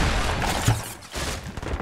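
Shotgun fire in a Fortnite match comes as a dense, noisy burst of loud, close blasts filling the short span, with a brief dip partway through.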